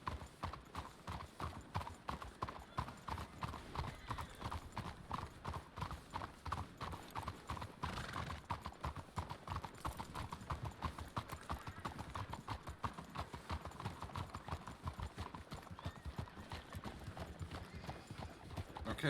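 Many horse hooves clip-clop at once in a dense, continuous clatter on hard ground, steady and fairly quiet, with no speech, in a Wild West roleplay video game.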